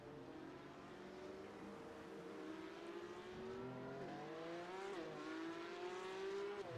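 A Porsche Cup race car in a sim racing game spins out, its engine droning steadily with rising and falling revs as it slides and recovers, continuous and fairly close with no talk over it.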